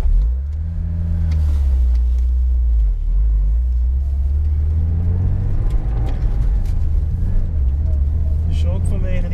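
A car pulls away on a slalom course, its engine rumbling loud and close and rising as it accelerates, while people talk over it.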